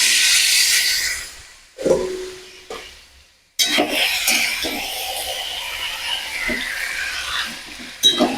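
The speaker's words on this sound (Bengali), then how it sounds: "মাংসটা দিয়ে দিচ্ছি" Mutton dropped into a hot pan of fried onions with salt and garam masala, giving a loud hissing sizzle that cuts out briefly, then bursts back and continues with occasional utensil knocks.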